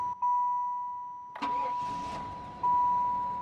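A Buick Roadmaster race car with nitrous, not driven for a long time, cranks and fires into a short idle partway through, while a steady electronic chime tone sounds throughout.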